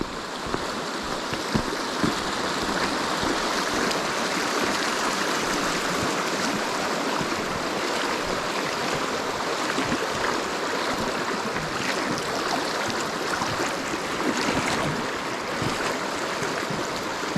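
A river flows steadily in a continuous, even rush of water that fills the whole stretch at a constant level, with no voices.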